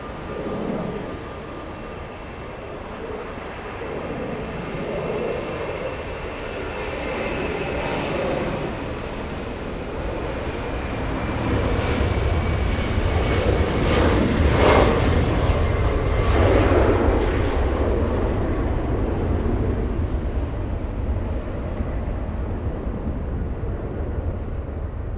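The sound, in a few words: airliner taking off at LAX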